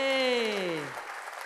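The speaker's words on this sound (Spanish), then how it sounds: "Fuerte el aplauso por ahí." Audience applause at a live folk show by a singer, a dense wash of clapping under a loud sustained voice calling out over the crowd, fading toward the end.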